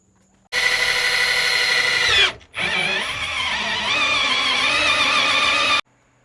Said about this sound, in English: I'll bring that with me and drill some holes